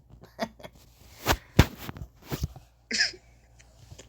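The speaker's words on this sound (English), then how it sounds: "Now he's coughing." A sedated patient gives a few harsh coughs and throat-clearing bursts during surgery, close and loud, spaced irregularly with short pauses between them.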